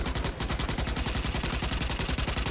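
Rapid machine-gun fire against swarming bugs in Starship Troopers: Extermination, a steady, close, relentless stream of shots with no pause.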